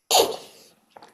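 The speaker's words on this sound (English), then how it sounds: "Like, I sneezed." A single sudden, loud human sneeze that fades quickly, followed by a short faint sound.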